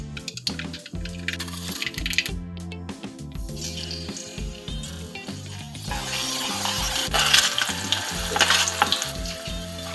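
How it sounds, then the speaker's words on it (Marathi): Cumin and mustard seeds crackle and sizzle in a hot kadhai, a crisp close frying hiss that builds louder and busier toward the end, with soft stirring scrapes and background music. "तापल्यावर जिरा मोहरी टाकू"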